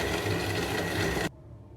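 A blender whirs loudly, grinding bananas and dates with a little milk, a dense motor roar that cuts off abruptly after about a second, leaving a low hum.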